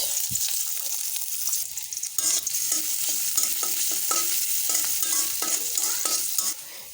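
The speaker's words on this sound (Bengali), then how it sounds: "কড়াইতে দিয়ে দিচ্ছি তেল, দিয়ে দিচ্ছি পেঁয়াজ" Onions frying in hot oil in a wok, a loud steady sizzle up close with repeated rhythmic stirring scrapes through most of it, easing off at the end, no voices.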